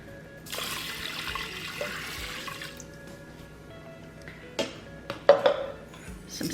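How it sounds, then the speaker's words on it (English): Water pours from a cup into an Instant Pot holding one cup of uncooked rice, a close, soft trickle and splash that rises toward the end, with no talking. "I'm going to add 2 cups of water."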